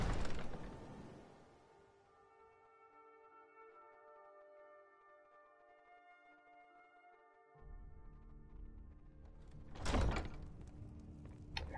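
A heavy wooden door in Skyrim's Mistveil Keep in Riften thuds open near the start, followed by a calm interior ambience with sustained tones and a second loud thump near the end.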